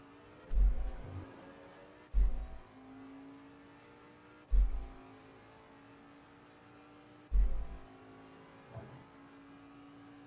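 Bentley race car in the video game Assetto Corsa Competizione with a steady engine drone, rising with each upshift, and four heavy regular thumps from the force-feedback wheel.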